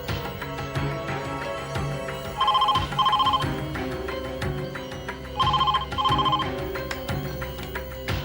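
A telephone rings in two double-ring bursts over a busy background of music or ambient sound, during a tense TV drama scene as a call is placed; no speech over the rings.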